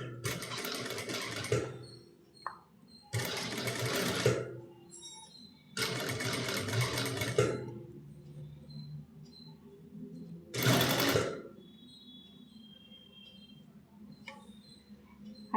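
A sewing machine stitching a blouse neckline runs in four loud bursts of fast, steady whirring, separated by short pauses filled with faint clicks and handling noise.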